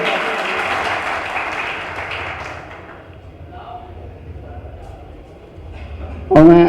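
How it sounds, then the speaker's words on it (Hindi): A small gathering of pigeon fanciers gives a few seconds of moderate applause that fades into quiet murmuring, ending with a sudden loud voice up close. "तो इनके लिए एक ताली हो जाएगा।"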